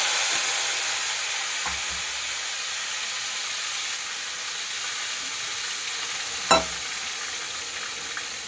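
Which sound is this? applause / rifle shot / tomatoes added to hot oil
tomatoes added to hot oil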